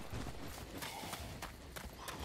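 A cow charges in with hoofbeats in a survival game, rapid thudding clip-clop steps close by, steady and loud for a couple of seconds.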